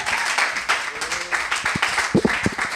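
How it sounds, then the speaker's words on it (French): An audience at a certificate ceremony for completed internships claps in a steady, moderately loud wash, with a few low thumps and brief voices mixed in. "Sur vos acclamations, s'il vous plaît."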